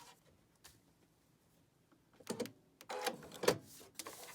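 A sewing machine runs off the end of fabric on a Halloween project box, starting quietly and building into a few short, louder bursts of mechanical stitching near the end.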